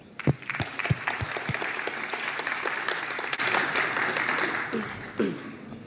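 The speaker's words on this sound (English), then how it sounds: "Round of applause." A conference audience applauds before a technical talk on OpenTelemetry and Prometheus, starting with a few distinct early claps that swell into a full, sustained round of clapping from a room of listeners.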